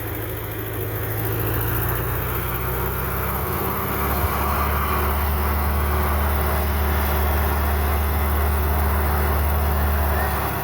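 A tractor mower engine runs in a hay field with a steady low hum, then its throttle is pushed up partway through, bringing a louder, fuller drone that holds to the end.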